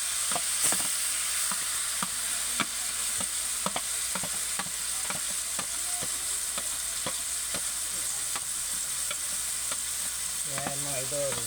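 Squid adobo with tomatoes being stirred in a pan, with steady close sizzling frying throughout and repeated sharp utensil scrapes and clacks against the pan at a regular pace.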